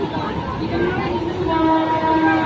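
Interior of a moving Bangaon local commuter train on a morning run, with a continuous rumbling rattle of the carriage and a steady hum, while people talk close by over the noise.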